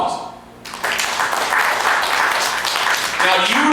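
A radio-show audience in a lounge breaks into sustained applause after a brief quiet moment, the clapping filling the room loudly and evenly to the end.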